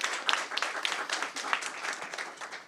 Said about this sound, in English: Round of applause for the sponsors,